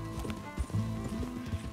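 Horse hooves clip-clop in a steady rhythm in the Red Dead Redemption II video game on PC, with an occasional whinny mixed in, fairly quiet and close throughout.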